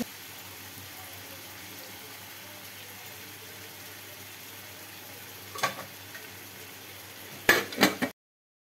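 Malvani chicken fries in a pan with a low, steady, fairly quiet sizzle, broken by a couple of brief stirring clatters near the end before the sound cuts off.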